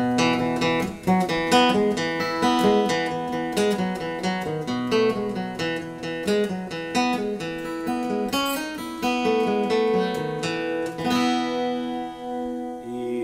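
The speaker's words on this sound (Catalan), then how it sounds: "El jig que us tocaré sona així" A lively Celtic jig plucked on an electro-acoustic guitar runs quickly along with busy, bouncing notes and ringing harmonics, played solo and close.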